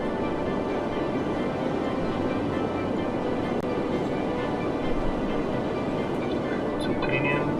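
Subway trains running through a city in the game Cities Skylines, a steady rumbling rail drone with faint clicks, continuous and moderately loud with no talk over it.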